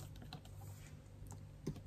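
Quiet typing on a computer keyboard, scattered soft key clicks with a couple of louder taps near the end, heard alone in a calm indoor room.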